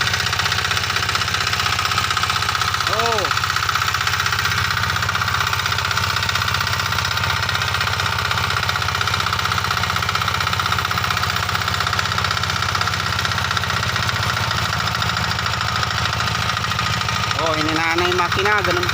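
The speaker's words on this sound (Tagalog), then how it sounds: "Hininaan na yung makina, ganun pa rin." Irrigation water pump engine running in a rice field, a steady mid-pitched drone with a constant hum and vibration throughout, close and loud, with brief outdoor sounds over it.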